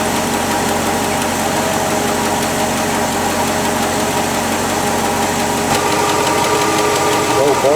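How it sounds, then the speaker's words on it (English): An International Harvester pickup truck engine with a Holley 4160 carburetor idles in a steady, loud, even rumble with a slight uneven lope, running continuously up close. "Here's the sound of the engine at idle."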